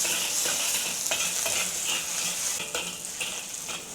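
Chili, garlic, salt and pepper frying in a wok over low heat, a steady close sizzle with stirring scrapes and clinks throughout, no talking.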